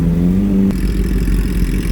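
A Kawasaki H2 SX SE motorcycle's exhaust gives a short steady revving note, then cuts to a rougher, clattering rumble, heard up close and loud at a seaside stop.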